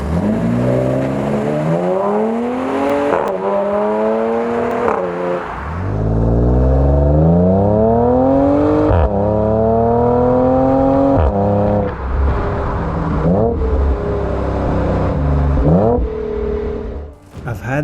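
Audi 3.2 Quattro S-Tronic engine breathing through an AWE Tuning resonated exhaust, revving loudly and continuously, with rising pitch through repeated gear changes and brief dips between shifts.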